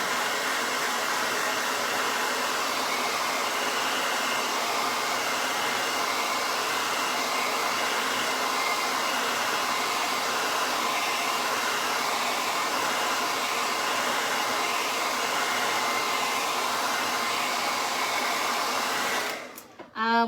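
A hair dryer blows steadily and loudly on fresh paint on a door hanger, a constant whirring roar that runs unbroken for about twenty seconds and then cuts off abruptly at the end.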